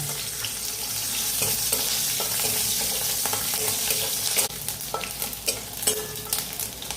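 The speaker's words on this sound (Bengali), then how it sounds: "সবার প্রথম আমি রসুনটা দিয়ে দিলাম।" Garlic frying in mustard oil sputters and sizzles steadily at close range, broken by the clicks and scrapes of a spoon stirring the pan, with no talk.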